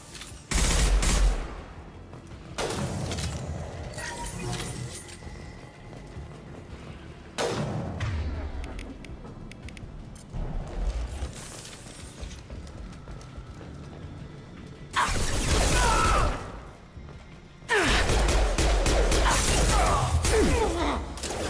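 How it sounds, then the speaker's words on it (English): Heavy bursts of impact gun fire in Mass Effect 2, several loud, blasting volleys of a few seconds each separated by quieter combat ambience, close and punchy with no voices. "Firing an impact gun!"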